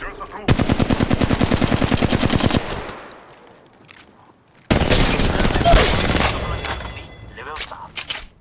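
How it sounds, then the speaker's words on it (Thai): Two bursts of rapid automatic gunfire in Apex Legends Mobile during a firefight, a loud rattling volley for about two seconds, then after a short lull a second dense, harsh burst that trails off. "กำลังยิงต่อสู้"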